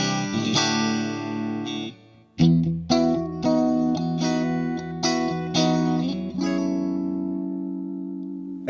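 A Sire S7 electric guitar plays through two amps at once with no tremolo or pan effect, sustained chords and picked notes ringing clean and full, with one brief break before strumming resumes.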